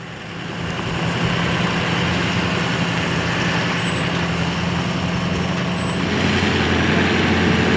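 An off-road truck engine held at about 1500 RPM in four-wheel drive, climbing a steep hill with brake and throttle applied together. It gives a loud, steady, close rumble with a low droning tone throughout.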